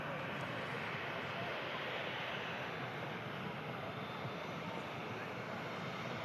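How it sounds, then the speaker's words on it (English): Emirates Airbus A380 on pushback at an airport, heard as a steady broadband roar of aircraft engines, distant and even throughout with no clear peaks. "we have the Emirates Airbus A380 on the pushback"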